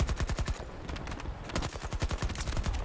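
Rapid bursts of PP19 submachine gun fire in the video game Battlefield 2042, close and punchy, with short pauses between volleys.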